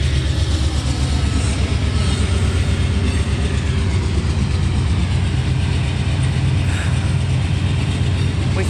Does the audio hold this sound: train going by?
yes